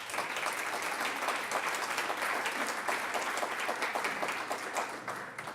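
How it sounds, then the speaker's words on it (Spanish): An audience at a pension reform debate applauds in a steady, dense burst of clapping that holds level for several seconds and tapers slightly at the end. "Un aplauso para ella, por favor."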